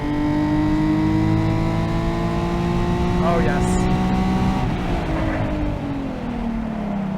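Modified Nissan 370Z engine revving hard on a race track, a loud, sustained, close-up engine note whose pitch climbs and then drops through shifts, with a driver briefly speaking over it.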